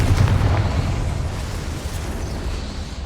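A Confringo blasting spell explodes in Hogwarts Legacy, a loud booming blast at the start that rumbles and decays into a low roar, with no talking over it.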